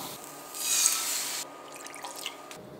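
About two and a quarter cups of water pours steadily for about a second, then trickles and drips faintly into a pan, with no talking.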